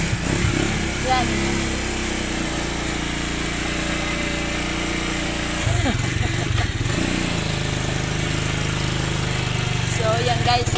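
A motorcycle engine runs steadily after a struggle to start it, a loud, continuous rumbling drone that dips briefly midway before resuming, with voices talking over it nearby.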